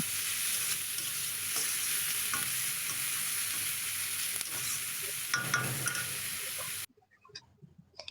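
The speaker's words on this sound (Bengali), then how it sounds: "এই যে রসুন আর আদা কুচি ছিল আমি এগুলো দিয়ে দিলাম এগুলো দিয়ে আর একটু হালকা ভেজে নেব" Onion, garlic and chopped ginger sizzle steadily in hot oil for fried rice, a dense bright hiss with occasional stirring scrapes, cutting off abruptly near the end to a quiet room with faint clinks.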